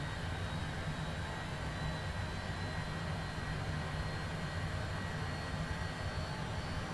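Cessna Citation Longitude jet engine in Microsoft Flight Simulator 2020, running steadily just after start: a constant, even roar with a faint high whine, unchanging in loudness and heard alone without talk.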